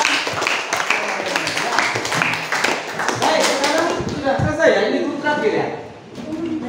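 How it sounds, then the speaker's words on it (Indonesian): Students in a classroom clap for a classmate, a burst of close, uneven hand claps with talk and scattered voices over and around them, fading toward the end. "Tepuk tangan ya."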